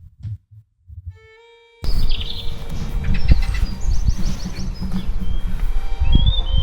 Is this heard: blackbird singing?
yes